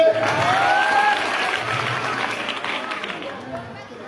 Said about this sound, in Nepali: ताली बजाउन छोड्ने